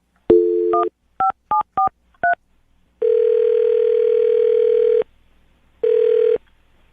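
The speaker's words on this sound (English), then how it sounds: "I'm gonna dial her phone number right now" Telephone keypad dialing a number: a quick series of short DTMF beeps in an uneven rhythm, followed by two long ringback tones with a pause between, loud and clear with no talking.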